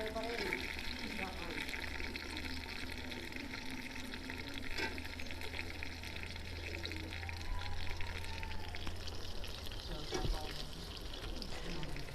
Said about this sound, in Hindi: तो अब हम चने शामिल करेंगे वाइट।